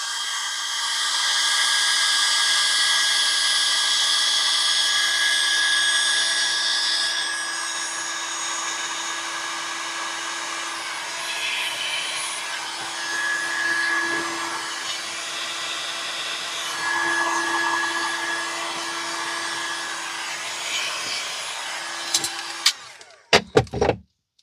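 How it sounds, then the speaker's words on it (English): A heat gun blows on resin at the bottom of a vase mold, producing a steady, close whirring hiss for about twenty seconds that ends in a few clicks and knocks as it shuts off. "I'm going to use my heat gun down here at the bottom."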